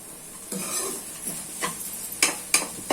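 Bitter gourd pieces are stirred in a pan, a spoon scraping and clinking against the metal in several separate strokes over a faint sizzle, close and fairly loud, with no talking.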